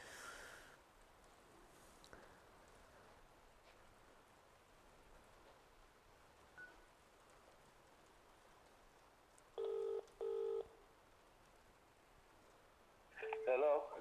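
A phone call is dialed and rings out over a quiet, faintly hissing room: two short electronic ring bursts in the middle, then another tone burst near the end.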